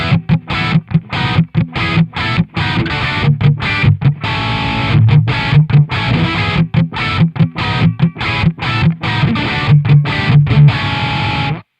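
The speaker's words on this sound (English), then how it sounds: "There's something about the distortion in this amp." A heavily distorted electric guitar through an AmpliTube 5 amp simulator plays chugging, rhythmic chords with sharp stops between phrases, loud and saturated throughout.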